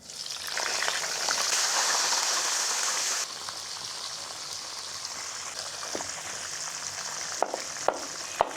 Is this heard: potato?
yes